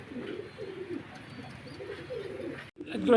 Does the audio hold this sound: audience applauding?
no